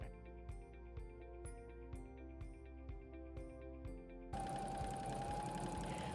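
A sewing machine zigzag stitching around the edge of a homespun apron piece makes a steady motor whir with evenly spaced ticking, then turns into a louder, rougher hiss near the end.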